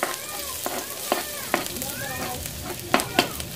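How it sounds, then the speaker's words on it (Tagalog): Garlic frying in cooking oil for chicken adobo, a continuous close sizzle with sharper crackles and scraping stirs, while someone speaks over the cooking. "Okay, patoasted nyo muna yung bawang para mabango."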